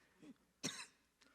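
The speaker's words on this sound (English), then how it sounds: "I'm going to have to cough even in live space." A single sharp cough, close and fairly loud, preceded by a faint throat noise and followed by a softer trailing breath, in a quiet room during a live recording.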